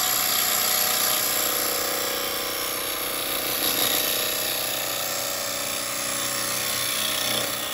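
A woodturning lathe with a carbide chisel cutting a spalted beech bowl makes a steady, loud, dense whirring rasp that continues unbroken throughout and sounds close by.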